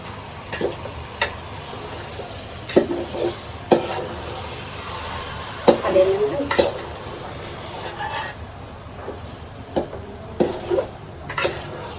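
Meat, rice and biryani masala cook in a pot, with low frying noise under scattered clinks and scrapes as a utensil stirs against the pot.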